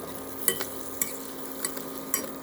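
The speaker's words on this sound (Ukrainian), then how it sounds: "розмішую дуже гарно" A spoon scrapes and taps around a saucepan of honey over low heat in a few distinct strokes, with a soft, steady background hiss and no talking.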